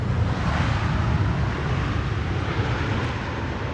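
An airliner touching down on Schiphol's Polderbaan runway, a dense, steady, broadband jet roar from reverse thrust, loud and sustained across the whole stretch, with no voices.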